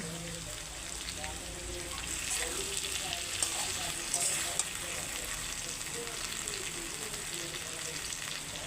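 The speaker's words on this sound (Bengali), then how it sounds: "এখন আমি মশলাগুলো এক এক করে দিয়ে দিচ্ছি দিয়ে দিচ্ছি লবণ" Salt and ground spices, including turmeric, chili, cumin and coriander, hit hot oil in a pan, giving a continuous close crackling sizzle with occasional stirring scrapes and no clear speech.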